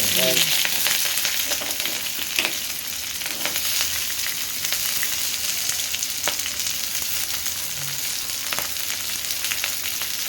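Curry leaves and chopped onion sizzle in hot oil in a pan for fast-food-style egg fried rice, a dense, steady crackling hiss with occasional stirring scrapes, close and continuous throughout.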